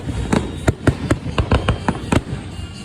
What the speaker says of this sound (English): Fireworks. Amazing.